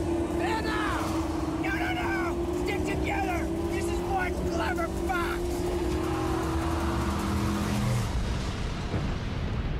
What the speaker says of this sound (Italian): E questa è la sua macchina, ragazzi. L'Interceptor, se non vado errato.